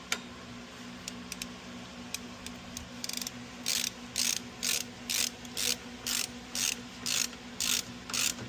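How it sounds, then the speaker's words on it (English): Ratchet snugging bolts on car brakes during a brake upgrade, a sharp clicking burst followed by a steady series of regular rhythmic ratcheting strokes, close and clear with no talking. "We'll go with our ratchet and get them snug per the instructions."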